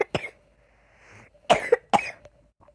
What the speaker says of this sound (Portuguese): Porque eu tô com uma tosse do caramba aqui.